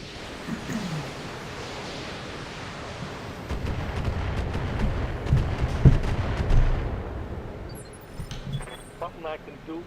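Weapons fire in the BattleTech video game, a rumbling barrage of booms and blasts that builds in the middle and fades, with voices talking over it.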